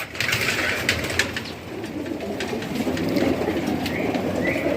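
Racing pigeons, hens and cocks kept in separate sections of a loft, cooing and fluttering close by over a steady background rumble.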